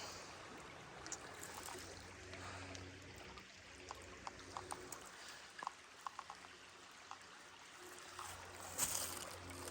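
A small creek trickles and burbles steadily, quiet and close by, with a few faint tapping clicks over the continuous flow and no voices.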